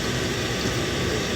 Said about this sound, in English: Let me turn on my fan.